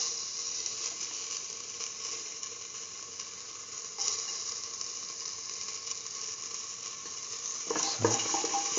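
Ginger fries in a pan with a steady, fairly quiet sizzle while a utensil scrapes and stirs, giving a few sharper clatters near the end, with no talking.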